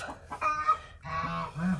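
Backyard chickens near a garden chicken coop give honking, clucking calls, several short nasal squawks close by and at moderate loudness with no talk.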